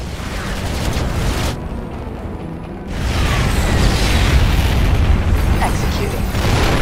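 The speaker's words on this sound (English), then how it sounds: "Nuclear launch detected." A nuclear strike detonates in the StarCraft II campaign on Brutal difficulty, a loud continuous rumbling blast that dips briefly and then swells into a sustained roar, with game voices sounding alongside.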